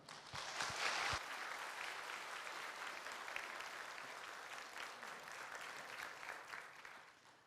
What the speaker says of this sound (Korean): 등단하실 때 큰 박수로 환영해 주시기 바랍니다.